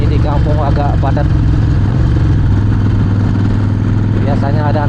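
A Harley-Davidson Sportster 48 rumbles along a crowded village road with a steady, deep engine throb. Someone speaks over the engine at the start and again near the end.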